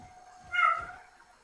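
A single short domestic cat meow rises and fades, close and moderately loud, alone over a quiet low hum.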